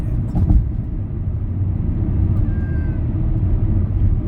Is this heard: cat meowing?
yes